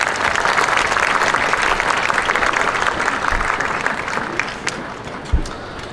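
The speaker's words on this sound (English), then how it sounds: "How about one more round of applause for our former Fair Queens?" A crowd at a county fair queen pageant gives sustained, even applause for the former fair queens, a full wash of many hands clapping without a break.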